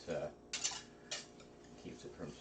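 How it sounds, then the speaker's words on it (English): A whisk stirring rice in a pot sends a few quick metallic scrapes and taps against the pot sides, spaced out and fairly close, with low murmuring in between. "I always like to use a whisk for rice"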